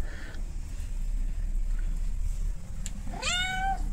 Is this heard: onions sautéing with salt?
no